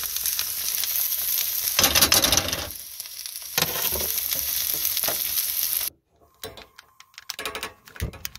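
Rice frying in a pan gives a loud, steady sizzle with bursts from stirring for about six seconds. It then cuts off, leaving scattered light clicks and scrapes.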